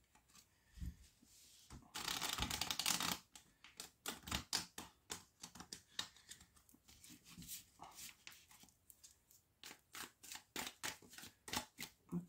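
Tarot cards are shuffled up close, with one dense riffle near the start and then a long run of rapid, irregular card slaps and flicks, and no voices.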